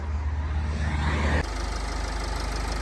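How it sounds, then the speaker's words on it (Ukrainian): Low, steady rumbling of a Renault Koleos 2.0 dCi diesel engine idling close by, its tone shifting abruptly partway through before continuing at an even chug. "Зараз заведу мотор, покажу вам його під капотом."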